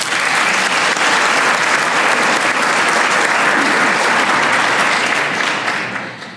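Sustained applause from an audience at a small business recognition awards ceremony, loud and steady throughout before tapering off at the very end.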